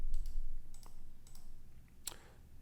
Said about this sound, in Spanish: Y voy a hacer clic derecho,